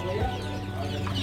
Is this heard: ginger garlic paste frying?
no